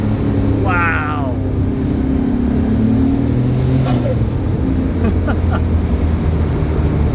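Japan-built Nissan R32 GTR pulling hard in second gear, its engine drone steady and close from inside the cabin, with people talking excitedly over the car noise throughout.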